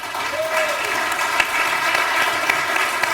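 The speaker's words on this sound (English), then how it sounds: "I apologize for stepping on the applause of Misha and Gilchrist." Sustained applause from a crowd, steady clapping throughout with a brief whistle-like tone near the start.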